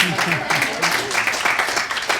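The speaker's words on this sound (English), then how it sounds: "let's give ourselves a round of applause" Participants at a workshop on educating about bisexuality give themselves a round of applause, a moderate, steady clatter of clapping with speech running over it throughout.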